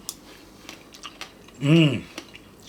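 A single loud crunchy bite into crisp pomegranate seeds with a jelly coating, a short close crunch against near silence with faint small clicks around it.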